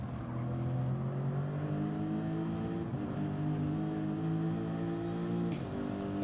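GT race car in a racing video game on the Le Mans straight, a steady loud engine drone holding a high pitch that climbs slightly, with no pauses and no talk over it.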